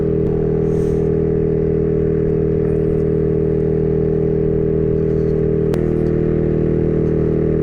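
Maddog 150cc GY6 scooter engine held at full throttle while climbing a mountain road, a steady loud drone that continues without break, with one sharp tick near the end.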